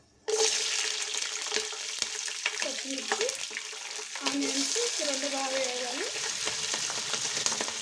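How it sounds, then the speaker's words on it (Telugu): Masala spices sizzle and fry in a pan for a veg biryani, a steady close hiss with clinks of stirring and brief faint voice-like tones through it. "మసాలాన్ని వేగినాయండి కొద్దిగా చాలు"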